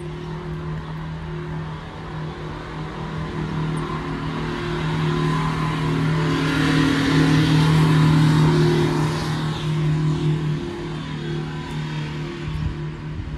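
Mazda Miata engine running close by with a steady rumble that rises into a stronger rev in the middle before settling back down, with no voices.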